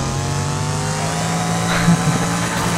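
A race car engine in the video game Wreckfest holds a high, sustained revving drone with a few brief bumps in level, close and loud, with no talk over it.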